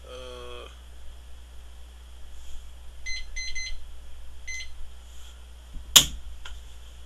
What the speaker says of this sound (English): Yes, my alarm is loud.